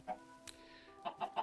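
Chickens in a video game give a few faint, short clucks, scattered over a quiet background with a steady low tone under them.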